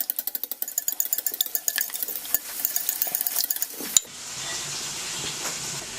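Eggs whisked briskly in a bowl for a canned salmon scramble, a fast run of sharp clicking strokes for about four seconds that then gives way to a softer, steady hiss.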